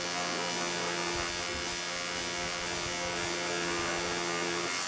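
A tattoo machine buzzes steadily while packing solid color into skin, running a little slow, a constant close electric hum with faint irregular ticks and no voices.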